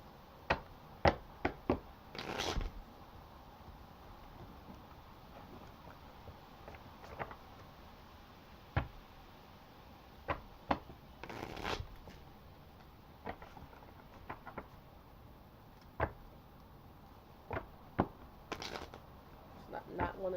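Intermittent crisp tarot card-handling sounds: short slaps, riffles and shuffles in scattered bursts, close and fairly quiet, with soft background noise between.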